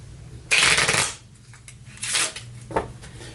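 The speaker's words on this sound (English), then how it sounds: "All right, everything gets shuffled." Playing cards are shuffled during a Sentinels of the Multiverse tabletop game: a crisp riffle burst, then softer shuffling and a short final snap, close and quiet with no talk.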